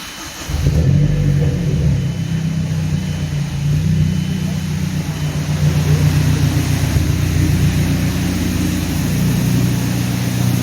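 A 2006 Mazdaspeed6 with a Corksport exhaust and stock clutch idles and revs, a loud, steady low engine rumble rising into sustained throttle, close and continuous with no talk.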